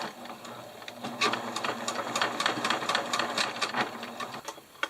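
A sewing machine stitches down a fabric face mask in short rapid bursts of needle clatter, with brief pauses and a steady motor hum underneath, heard up close.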